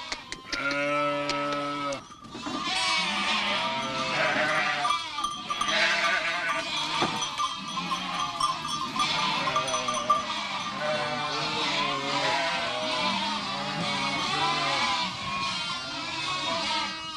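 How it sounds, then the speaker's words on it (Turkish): A flock of sheep and lambs returns from the mountain in a rural Turkish village, with dense overlapping bleats going on nonstop. Many animals are close by and loud, and a brief voice comes in near the start. "Şimdi koyunların bir kısmı dağdan geldi Ercan abi."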